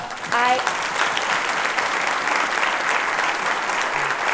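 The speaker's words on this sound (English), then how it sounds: "A round of applause, please." Sustained audience applause fills a hall at a chamber of commerce event, steady clapping from a crowd rising quickly and holding at a loud, even level, with a voice briefly heard at the start.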